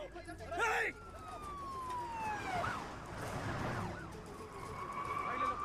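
A police car siren wails at a distance, its pitch sliding down and rising again over steady traffic rumble, with a brief voice near the start.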